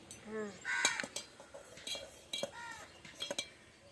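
A big spoon clinking against a cup or pot while tea is made: a few bright, ringing metallic clinks and taps scattered irregularly, with a voice heard in between.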